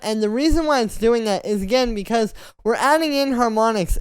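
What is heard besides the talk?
No everyday noise stands out behind the speech.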